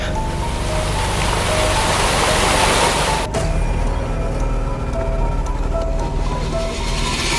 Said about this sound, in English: I can hear the sound of the water gushing. I can hear it.